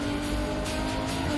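A Ferrari Monza SP2 engine hums and growls steadily close by, with a rising surge of revving mid-clip and a constant roar throughout.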